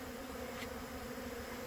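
Canadian Buckfast bees robbing a hive make a dense, continuous buzzing drone, steady and close throughout the short stretch with no voices.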